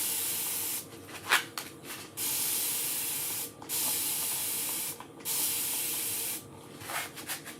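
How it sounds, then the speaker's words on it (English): Several bursts of a spray bottle misting water onto a chalk transfer, each hiss lasting about a second with short pauses between, close and clear in a quiet room. "Just trying to figure out how I want to wet this, so we'll just spray it."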